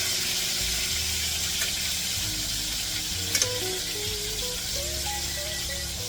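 Chicken pieces for chicken piccata fry in a pan with a loud, steady sizzle throughout, broken by a brief clink or two of a utensil near the middle.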